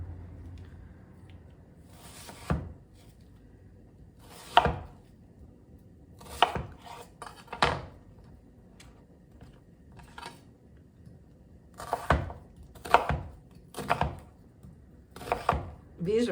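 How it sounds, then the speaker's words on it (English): A knife dicing an onion on a cutting board for smoky beans: irregular clusters of sharp chops, some in quick runs with pauses between, close and fairly quiet, with a low background hum. "while we're dicing up our onion"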